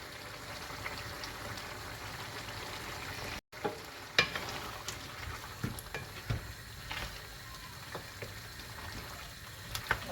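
Ridge gourd and mutton sauté in a pot with a steady, moderate sizzle, broken by occasional clinks and scrapes of a spoon stirring through the mixture; no one speaks.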